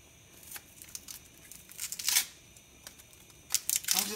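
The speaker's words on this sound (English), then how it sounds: "I'm going to only use a little bit of onion, so let me just peel this real quickly." Dry papery skin peeled by hand from an onion in a home kitchen while preparing pork fried rice, heard as quiet, irregular crackling tears and crinkles in short bursts, the loudest near the middle and at the end, with no talking.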